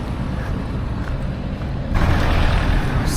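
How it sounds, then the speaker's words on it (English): Outdoor wind in Thies, Senegal, buffeting the microphone with a low, rumbling roar that swells louder partway through and stays strong until the end. "It is windy."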